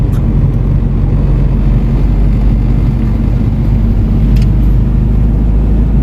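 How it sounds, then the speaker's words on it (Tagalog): Trucks passing at night on a road in Pagbilao, Quezon, heard from inside a vehicle as a steady low rumble of engine and road noise, loud and continuous without speech. "Kasalubong natin mga truck."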